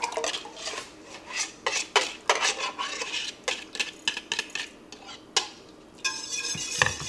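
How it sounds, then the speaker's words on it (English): Nine egg yolks are beaten by hand in a bowl for vanilla custard ice cream, giving a run of uneven, clinking strokes with brief pauses and a faster burst near the end, with no voices. "So we're going to get this all mixed up, break up the yolks."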